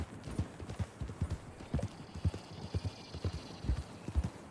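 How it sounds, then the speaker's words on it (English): Steady clip-clop of horse hooves at a walking pace in Red Dead Redemption 2, rhythmic and fairly quiet, with a faint background hum. "There's some horses out there."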